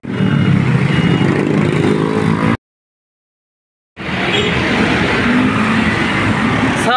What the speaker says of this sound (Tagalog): sasakay na tayo ng tricycle papuntang Kaingin sa amin